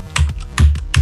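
Computer keyboard typing during a Black Ops 2 gaming session: bursts of clacking keystrokes fall in roughly three clustered groups over about a second, close and fairly loud, with no talk.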